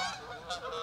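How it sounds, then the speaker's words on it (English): Geese honking in a quick burst of nasal calls overhead, close and clear, layered honks overlapping. "So you guys can hear the geese flying over as I speak right now."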